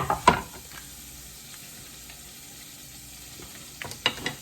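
Butter, garlic and Italian seasoning sizzle softly in a pan, a low steady fry with a few sharp scrapes of stirring at the start and end, close by and without speech.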